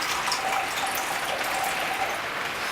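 Half a cup of water is poured in a steady, close, hissing stream that stays even throughout without pause.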